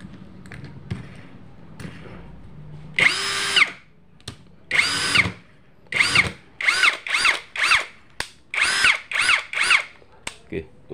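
NRT Pro DC740 cordless drill motor whirring in short bursts, first a couple of longer runs, then rapid repeated on-off pulses as speeds change, close and loud.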